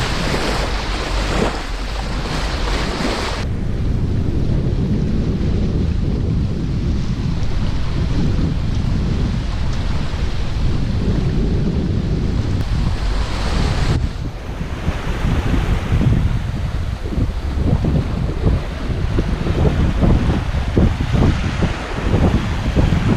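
Strong wind roars over open sea aboard a Hallberg-Rassy 54 sailing yacht, with steady broadband rushing and surf-like gusts throughout, loud and close with buffeting on the microphone and no voices.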